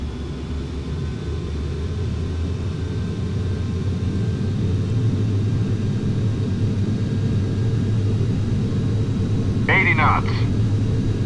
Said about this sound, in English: Okay, so let's take off.